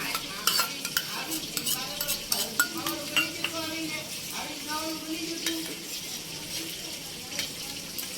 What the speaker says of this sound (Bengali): এখানে দু চামচ টক দই নিয়েছি ওইটাও আগে থেকে ফেটিয়ে নিয়েছি একসাথে মিশিয়ে নেবো